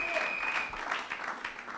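Church congregation applauding during a Sunday service, a brief burst of clapping with a sustained tone and voices mixed in.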